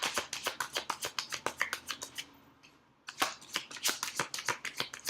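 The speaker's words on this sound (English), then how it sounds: "I want to pull a few crowning cards." Tarot cards are shuffled and pulled up close in quick, rhythmic papery flicks, pausing briefly midway before the brisk riffling resumes.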